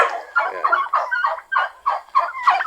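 Farm turkeys gobble in a quick series of about eight rattling calls close by, with no other voices.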